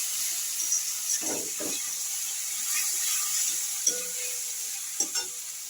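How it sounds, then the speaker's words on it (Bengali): Turmeric and chili powder masala frying in a pan for a banana-flower ghonto recipe, a continuous soft sizzle with a few close spatula scrapes and stirs and no talking. "এবার আমি মশলাটাকে কষিয়ে নিচ্ছি"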